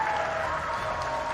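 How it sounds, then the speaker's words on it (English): A crowd at a CS:GO esports tournament applauds a bronze medalist team steadily, a dense wash of clapping that stays loud and even throughout. "let's give a big, warm round of applause for your bronze medalist"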